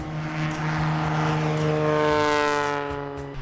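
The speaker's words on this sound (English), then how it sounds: "This takeoff also uses 20 degrees of flaps, but will push the tail up and then rotate." Propeller airplane taking off with 20 degrees of flaps, tail pushed up before rotation: a loud droning engine roar with a steady pitch that slides upward as power builds, close by and continuous, with no voices.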